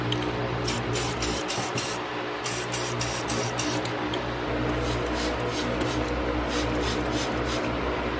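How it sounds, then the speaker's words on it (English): Spray paint hisses from an aerosol can onto Dollar Tree glassware, a series of close, steady bursts of varying length separated by short pauses. "And then now I'm gonna spray paint again."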